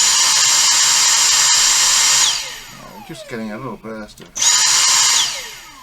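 A Dyson SV03 cordless vacuum motor whirs at a high, steady pitch for about two seconds, winds down while someone talks, then starts again just as loud, close up.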